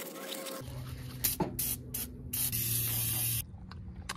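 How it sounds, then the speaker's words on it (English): An aerosol can of engine degreaser sprays onto the engine of a D16 Civic in a few close, loud hissing bursts, including a longer sustained spray near the end, with short pauses between. "Now I'm going to spray down the engine degreaser."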